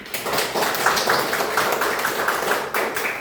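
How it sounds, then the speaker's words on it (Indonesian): Classroom of eighth-grade students applauding after a group presentation in a Christian religious education lesson, a steady, fairly loud wash of many hands clapping continuously throughout. "Kita beri tepuk tangan."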